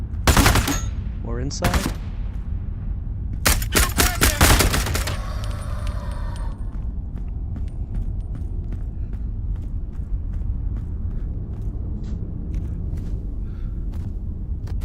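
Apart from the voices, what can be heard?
gunfire from video game Into the Radius 2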